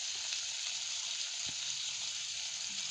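Cumin and mustard seeds sizzle and crackle steadily in hot oil in a pan for a kadhokla vegetable topping, a continuous close frying hiss with a faint pop or two and no talking.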